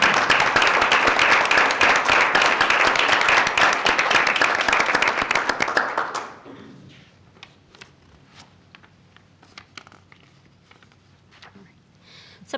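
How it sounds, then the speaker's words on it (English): Audience applause at a board of education meeting, thanking task force members; a loud burst of clapping for about six seconds, then it cuts off sharply, leaving faint room noise and scattered small sounds. "So we'd like to give them a big round of applause for everything."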